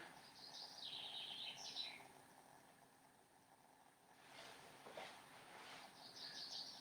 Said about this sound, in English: You might just be able to hear the birds singing in the background.